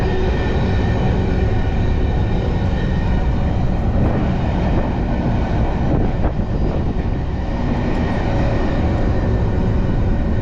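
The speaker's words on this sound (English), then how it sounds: "So that's a pretty formidable size of a train." A long freight train carrying livestock rolls past very close and loud, a continuous heavy rumble and clatter of wheels and wagons that stays steady throughout.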